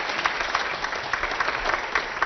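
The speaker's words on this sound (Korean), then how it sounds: "큰 박수로 맞아주십시오." Audience applause at a church program welcomes a guest's wife and daughter onto the stage, a steady, dense clapping sustained throughout without pause.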